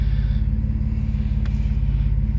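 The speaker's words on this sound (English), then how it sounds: "Get it bouncing on the limiter" Alfa Romeo 156 with a 3.0 engine and sports exhaust, sending out a loud, close, steady low drone with a fast pulsing throb that holds without much change.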